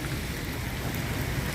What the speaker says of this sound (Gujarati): કારણ કે પાણી વરસાદ એટલો બધો પડ્યો છે અને હજી વરસાદ ચાલુ જ છે.